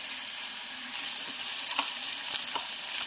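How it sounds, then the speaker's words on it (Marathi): Green chili paste fries in a pan for chicken curry, a close, steady sizzle that grows louder after a moment, with several soft spoon scrapes and stirs through it. "वाटण आपलं छान फ्राय होत आलेलं आहे"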